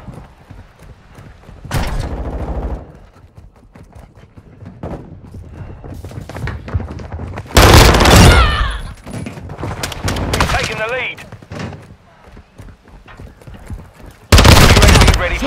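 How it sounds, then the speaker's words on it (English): Bursts of gunfire and loud thuds in Call of Duty: Modern Warfare II, coming in several heavy rapid volleys between quieter stretches, with game radio voices talking in between. "I'm taking fire."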